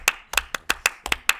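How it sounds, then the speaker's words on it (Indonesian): Eight sharp hand claps in an uneven rhythm, close and crisp with brief gaps between, isolated against near silence as a short applause cue during a podcast introduction. "Tepuk tangan, stadion."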